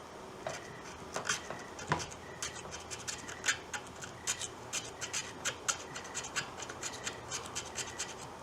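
A fishing rod being repaired is sanded by hand, giving quiet, close scratchy rasping strokes in an uneven rhythm with no talking.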